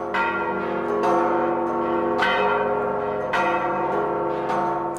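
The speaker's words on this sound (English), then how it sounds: "They are almost drowned out by the bell ringers of the Catholic Cathedral" Church bells of Mexico City's Catholic Cathedral ring in a slow, steady peal, each heavy clang struck about once a second with long ringing overtones that overlap and sustain.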